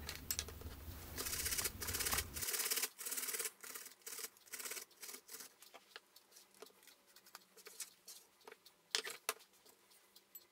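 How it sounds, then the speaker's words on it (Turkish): Celery and apple rubbed against the coarse side of a hand grater, giving a quick series of close, rasping scrapes in uneven bursts, with a denser rumbling stretch at the start. "rende kısmı rendenin iri gözüyle kerevizi ve elmayı rendeleyelim"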